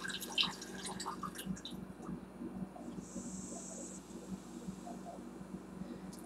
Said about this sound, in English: now we pour the grapefruit juice into there